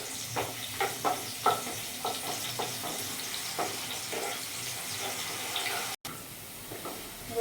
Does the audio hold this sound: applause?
no